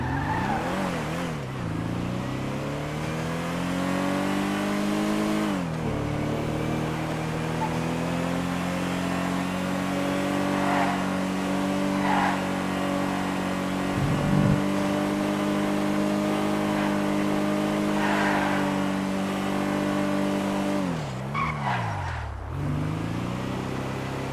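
The Astro GZ, a four-seater car in a video game, revs hard on a test drive: a loud, steady engine drone climbs and falls through gear changes, with a brief tire squeal midway.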